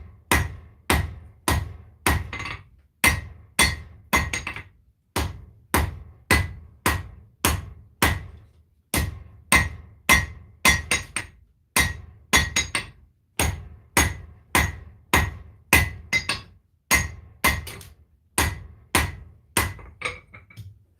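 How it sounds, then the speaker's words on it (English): Steady, rhythmic hammer blows ring out loud and close as a knife blade is forged to a point on an anvil, struck in quick bursts of two to four with short pauses between, and no one talking. "So, by leaving the bottom face on the flat of the anvil, I forge on a 45 and create a nice sharp point right there."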